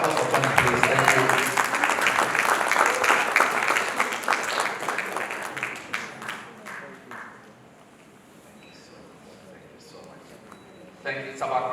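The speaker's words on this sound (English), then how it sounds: "Round of applause for Tony, please." An audience at a nonprofit summit applauds loudly at first, then the clapping fades to a lull and briefly picks up again near the end.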